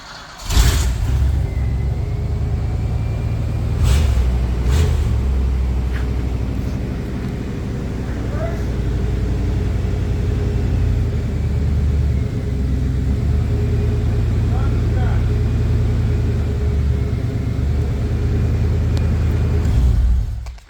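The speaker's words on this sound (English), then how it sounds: "Chevy 350 V8, Okay. 5-speed manual transmission, Switches. straight piped Flowmaster 44 series." A Chevy 350 V8 with a 5-speed manual and straight-piped Flowmaster 44 series exhaust rumbles steadily and loudly close by, a deep continuous low-end drone with a few brief clicks on top.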